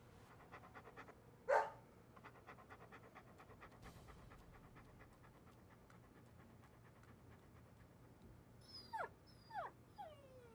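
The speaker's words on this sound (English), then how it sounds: "Damn, this dog's good." A dog pants quietly and rhythmically in the video game Deadly Premonition, with a soft whimper and a few brief sharp yelps near the end against a faint musical background.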